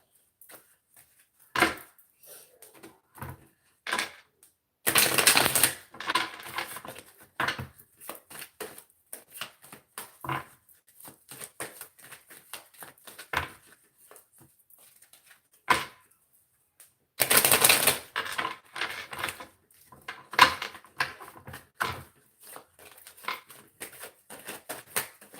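Tarot cards being pulled from a deck, with close, crisp card snaps, shuffling riffles and sliding flicks in irregular bursts, two longer loud shuffles standing out.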